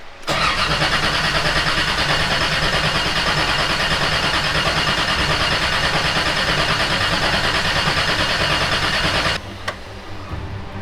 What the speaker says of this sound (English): Now we have oil pressure set up. Let's go ahead and start cranking.